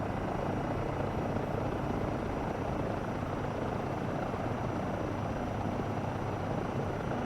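A Eurocopter EC135 helicopter flying in Microsoft Flight Simulator 2024 gives a continuous, dense rotor and turbine roar that holds steady and loud from start to end, with no voices over it.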